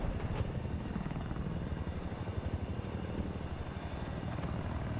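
A video game helicopter's rotor thumps steadily at a distance during a 32-versus-32 match, a low rhythmic chopping drone that holds constant throughout without any talking.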